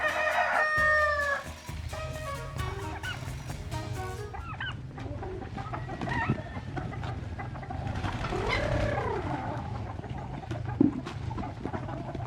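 A rooster crows repeatedly to call hens at a backyard breeding pen, its loud drawn-out calls rising over a steady low hum, with clucking fowl and other birds around it.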